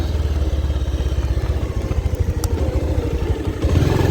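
A motorcycle engine starting and running on a rough rural road to a hill village, a steady close putter with a slight clatter that swells a little toward the end.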